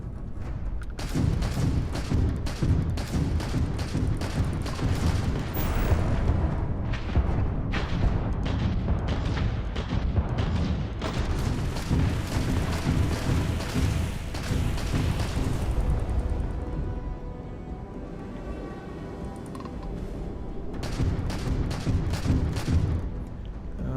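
Spaceship weapons fire in a ship-to-ship fight in the Starfield game, a dense run of rapid booming shots and thuds that goes on almost without a break and sits loud and close under a steady rumble.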